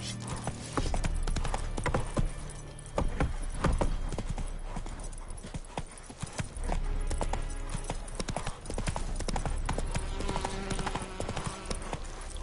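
Roach, a horse in The Witcher 3, gallops with steady, loud clip-clop hoofbeats that carry through the whole stretch, dense and driving, over an ongoing game soundscape.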